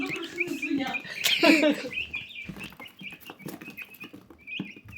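Small chickens and chicks chirp and peep in short high bursts around a cluster of clucking, with a louder flurry near the start.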